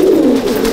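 Madrasi pigeons cooing in a pigeon loft in Chandannagar, Hooghly, a steady low throaty coo held close and continuous through the short moment with no voices.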